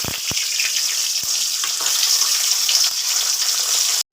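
Paneer cubes fry in white oil for a navratan korma, a steady broad sizzle running close and constant with a few faint clicks, cutting out sharply near the end.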